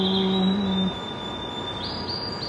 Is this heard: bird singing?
yes